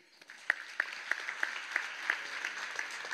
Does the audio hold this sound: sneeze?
no